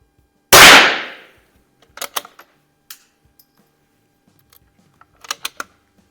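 One sharp, loud crack from an Izhmash CM-2 biathlon rifle opens with a fast-decaying tail, then comes a scatter of quiet mechanical clicks and taps as the bolt is worked.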